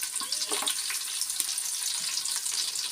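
Onion and garlic fry in a pan for an Uttar Karnataka chhoda: a steady, bright sizzle with scattered crackles and small stirring clicks, close and continuous.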